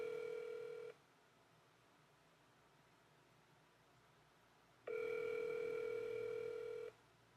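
A call to a police department's detective division connects, with a steady electronic telephone tone that sounds for about a second, stops for several seconds of quiet line hiss, then returns for about two seconds.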